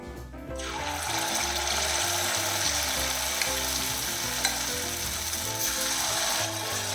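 Snack dough pieces frying in hot oil, a dense, continuous sizzle and bubbling that stays close and steady throughout, with no talk.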